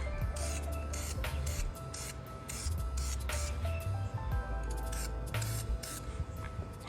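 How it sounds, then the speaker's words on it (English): Short bursts of black gloss spray paint hiss onto a car bumper from an Infiniti G37, hitting in repeated light passes with brief pauses between them, close and steady over a low background rumble. "Now it's time to spray."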